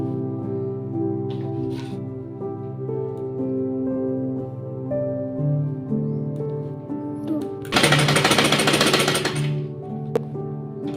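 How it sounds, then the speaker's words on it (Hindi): Sewing machine stitching the placket of a baby girl's dress, a steady whirring motor hum with a louder burst of fast rattling stitches partway through, close by. "और फिर हमें इस पर एक बार डबल सिलाई लगा देनी है।"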